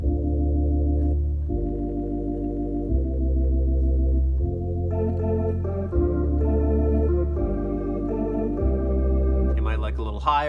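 A jazz-style organ plays a song in F, sustained block chords shifting every couple of seconds under a melody that climbs higher near the end, played alone and steady.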